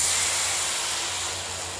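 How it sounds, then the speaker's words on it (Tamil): Jackfruit seeds roasting in ghee give off a steady, loud sizzling hiss that holds evenly throughout, with a faint low rumble beneath. "இதை நல்லா வறுக்கணும், நெய்யில் போட்டு வறுக்கணும்."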